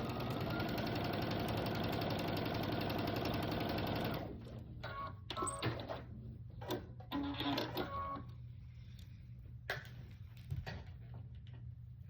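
A sewing machine stitches fabric pieces for a pumpkin door hanger, running in a loud, continuous rapid whir for about four seconds and then falling to quieter handling clicks and short rustles.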